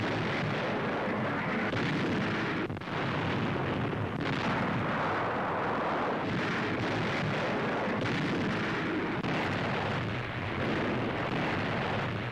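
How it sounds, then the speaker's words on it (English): Naval guns firing to cover a beach landing, a continuous heavy barrage of overlapping booms and rumbling blasts, loud and dense throughout with no voices. "Naval guns cover the landing."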